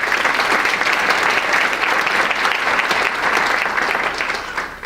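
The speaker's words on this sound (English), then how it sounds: "Please give him a round of applause." Audience applause at a climate revival conference panel, steady dense clapping from a sizable crowd that holds for the whole stretch and eases slightly at the end.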